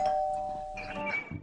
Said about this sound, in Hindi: घंटी बज रही है, आते हैं।